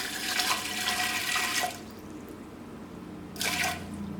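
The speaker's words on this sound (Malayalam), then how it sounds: "ഈ പയർ വേവിച്ചെടുക്കാൻ വേണ്ടിയിട്ട് ഇതിലേക്ക് ആവശ്യത്തിന് വെള്ളം ചേർക്കുക." Water poured over moong dal for cooking arrives in two bursts, a longer splashing pour at first, a quiet pause, then a shorter pour, close and moderately loud without any talk.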